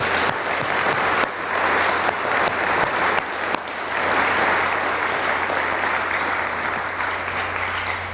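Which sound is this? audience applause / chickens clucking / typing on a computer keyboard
audience applause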